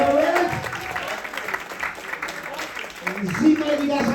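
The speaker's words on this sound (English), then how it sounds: "Put your hands together for Nori!" A comedy-club audience applauds and cheers for a host at an Atlantis Bahamas show, a steady wash of crowd clapping heard from mid-distance under a talking voice.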